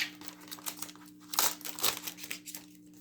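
Plastic packaging crinkles and tears close up as it is pulled off a Recollections rubber stamp set, with irregular crackling bursts over a faint steady hum.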